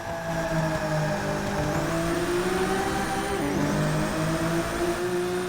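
A Ferrari 365 GTB4 accelerates hard at Le Mans in a racing video game, its engine droning loud and steady as the pitch climbs through the gears, with a brief shift dip partway and no voices.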